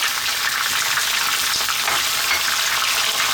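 Finely chopped onion frying in hot oil for a chicken curry, a steady, dense sizzle that holds evenly throughout with no voices.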